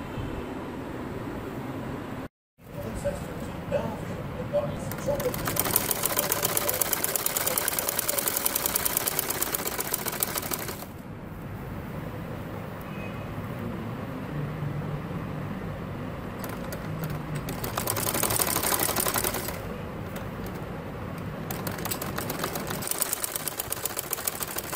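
Sewing machine stitching a tulip salwar, bursts of fast rhythmic mechanical whirring that speed up and pause, with a brief silent break early and quieter stretches between runs, no voices.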